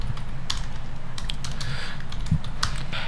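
Commands typed on a computer keyboard for a Linux terminal session, a quick run of soft, close key clicks with a firmer thump near the end, alone and fairly quiet.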